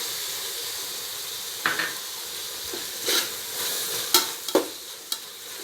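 Fried onions with ground mint and coriander paste are stirred in a pan for Kerala-style chicken biryani, giving a steady close sizzle broken by irregular scraping and clacking strokes of the spoon.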